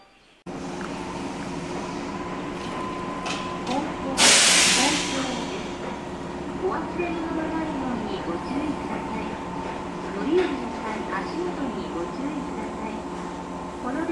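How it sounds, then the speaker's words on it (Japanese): A local train arriving at a platform of a Japanese station: a continuous low rumble of rolling wheels with a sharp burst of brake or air hiss partway through and some squeals, fairly distant, with no speech over it. "2番乗り場に電車が参ります。"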